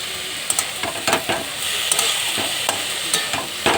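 Banana flower sautéing in a pan makes a continuous close frying sizzle and hiss, broken by repeated spatula scrapes and taps in an uneven rhythm, with no one talking.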